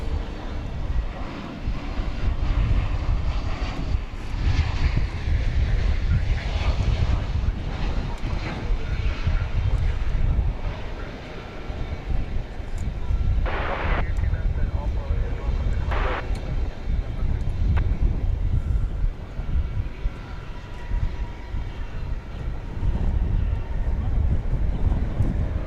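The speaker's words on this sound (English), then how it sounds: "American Flight 2439 from Salt Lake City, an Airbus A321 Neo." American Airlines Airbus A321neo arriving at DFW Airport, a continuous jet engine roar with rumbling low end and wind noise on the microphone, steady and fairly close throughout.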